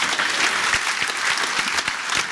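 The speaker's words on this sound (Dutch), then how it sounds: "En je krijgt een applaus van iedereen." A debate audience breaks into applause, a fairly faint but steady patter of many hands clapping at once, with a few sharper individual claps standing out over the continuous crackle.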